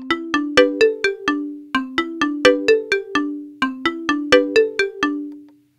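A step-recorded note pattern plays back on an Akai Force as bright, plucked synth tones in a steady repeating rhythm, each note decaying quickly, clean and alone with no voices.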